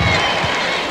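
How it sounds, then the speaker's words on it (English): A crowd at a college all-star wrestling meet gives a short burst of cheering, a dense wash of voices filling the hall, quick and fairly loud. "The fans give him a little cheer."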